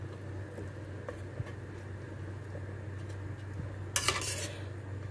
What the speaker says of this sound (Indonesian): Lalu kita masukkan beras yang sudah dicuci dan direndam